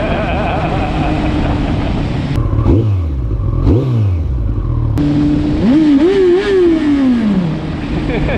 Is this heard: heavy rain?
no